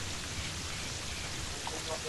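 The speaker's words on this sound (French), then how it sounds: "Il pleut alors que c'est une blue moon" Steady, even hiss of rain falling in the video game Terraria during a blue moon event, a continuous wash of noise that fills the whole moment.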